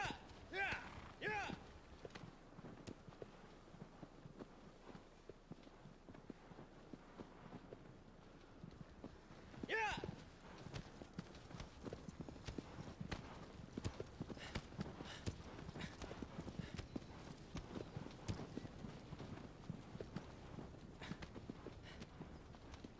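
A horse's hooves clip-clop in a steady walking rhythm while riding across open ground in Shadow of the Colossus, continuous and fairly close, with light wind noise behind.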